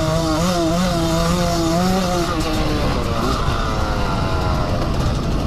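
A motorcycle braking and dropping down to third gear, its engine loud and close with falling then shifting harmonic tones under steady wind roar.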